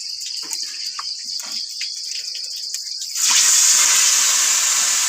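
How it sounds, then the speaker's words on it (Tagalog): Insects chirp steadily, then a loud rush of flowing water starts partway through and continues strongly to the end. "Agasa ang tubig karon."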